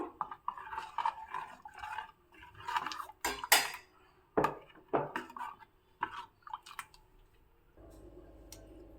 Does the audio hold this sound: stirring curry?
yes